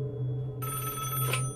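A telephone in the Five Nights at Wario's 2 video game starts ringing partway through, a bright electronic trill over a low steady background hum, with no talking.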